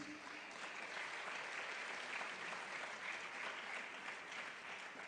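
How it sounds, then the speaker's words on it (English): An audience at a social media conference in Doha applauds its panelists, a steady, dense wash of clapping that holds evenly for about five seconds with no voices over it. "A round of applause to our panelists"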